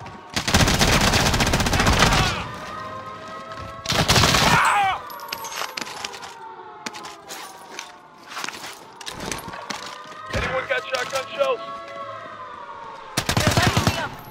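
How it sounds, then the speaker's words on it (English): Bursts of automatic gunfire rip through a Rebirth Island shooter match, loud rapid volleys at the start, middle and end, with a wailing alarm-like tone and scattered shots in between. "I'm taking fire!"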